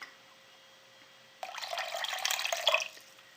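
A small amount of water is poured into a cooking pot holding beef tongue, a short, close splashing pour that starts suddenly, runs for about a second and a half, and trails off.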